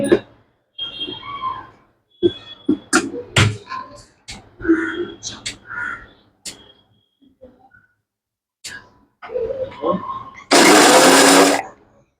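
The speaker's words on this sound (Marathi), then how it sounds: "आता ही मिरची मला मिरची पावडर बनवायची आहे, तर ही मिक्सरच्या भांड्यात टाकली." A mixer grinder runs in one loud, whirring burst of about a second as it grinds dried red chillies into powder at home. Before the burst, someone talks in short phrases with quiet clinks between.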